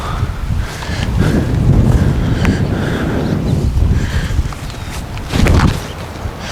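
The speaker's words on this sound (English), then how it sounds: "We got a little head right to left wind." Gusty head wind on an open disc golf field buffeting the microphone, loud rumbling surges rising and easing over several seconds with faint rustling and no talking.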